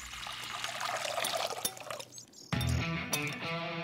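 Kvass pours steadily into a pork marinade with a fizzy splash, pausing briefly before a second pour with a faint clink.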